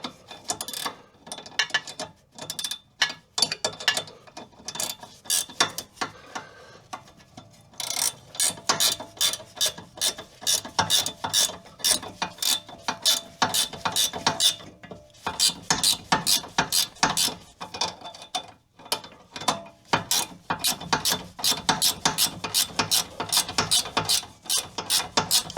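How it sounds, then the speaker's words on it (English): A stubby ratchet wrench clicks rapidly on a suspension bolt of a 2005 Toyota Camry during strut and sway bar link work, with close, crisp bursts of ratcheting separated by short pauses. "Try our little stubby ratchet wrench here."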